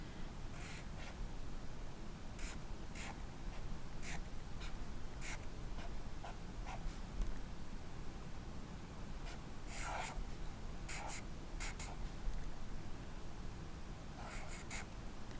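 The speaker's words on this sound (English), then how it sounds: "I'm gonna go ahead and write late Jurassic period right here." Handwriting of the words "late Jurassic period" on a school project background, a steady scratch of pen or pencil strokes in short repeated bursts, close and fairly quiet over a faint room hiss, with no talking.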